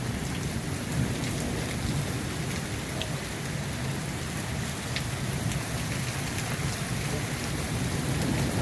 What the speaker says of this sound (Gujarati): પણ આ વીજળીના અવાજ છે, તમે જો સાંભળો મિત્રો